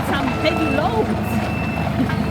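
A skid steer loader at a condominium construction site sounds its reversing alarm, a steady series of high, evenly spaced beeps heard nearby over engine rumble while people talk.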